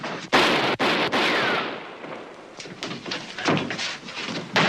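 Gunshots ring out in a 1950s-style TV crime drama: two or three sharp, loud cracks in quick succession, followed by a fading rumble and a scatter of smaller knocks and scuffs.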